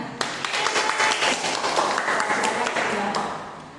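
A classroom audience gives a dense, steady round of applause for a group presentation, many hands clapping together close by for several seconds.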